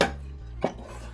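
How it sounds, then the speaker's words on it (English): A utensil scraping and clinking against a pan while stirring scrambled eggs, with a sharp clack at the start and another scrape midway over a low steady hum. "I've been stirring for quite some time."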